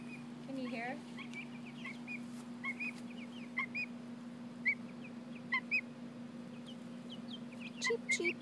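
Five-week-old chicks cheep in short, high chirps scattered through the clip over a steady hum, with occasional louder peeps near the end and a brief voice mimicking the calls.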